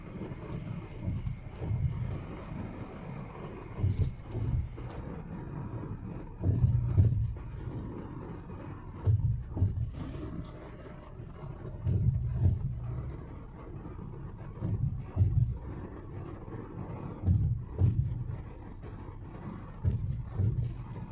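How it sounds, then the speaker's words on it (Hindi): Steady low engine rumble inside a closed Ford car, with periodic soft thumps from the air conditioning's air pressure recurring every couple of seconds; no voices. "बिल्कुल भी नॉइसलेस केबिन आपको मिलेगा, सिर्फ इंजन की आवाज़ इसमें आपको सुनाई देगी।"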